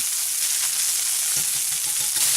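Goetta meat frying in a pan, a steady broadband sizzle with faint crackles and stirring scrapes, continuous and close, no voices.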